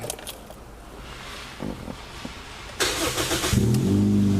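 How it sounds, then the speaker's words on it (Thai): A modified 2010 Toyota Vios 1.5E idles and then revs up loudly with a deep exhaust growl, growing from quiet rumbling to a sustained roar near the end. "ให้ฟังเสียงท่อกัน"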